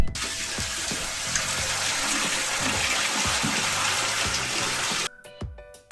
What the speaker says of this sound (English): Pour in water. Rainwater is best,